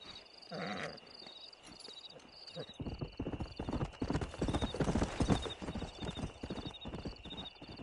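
Hoofbeats of a stallion in Red Dead Redemption, a steady clip-clop that grows louder and denser as the horse sets off, with a brief whinny near the start over a continuous high ambient tone.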